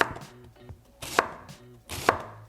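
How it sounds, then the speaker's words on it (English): A knife slices green cabbage very thinly, making three crisp, separate chopping strokes about a second apart against a board, close up with no talking. "To begin, you want 2 cups of green cabbage sliced very thinly."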